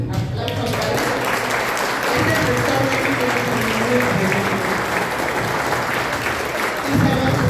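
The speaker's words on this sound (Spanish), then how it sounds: "Démosle un aplauso al Padre." A congregation at a church confirmation catechesis session applauds a priest, with sustained, even clapping from many hands filling the room throughout and a brief voice near the start.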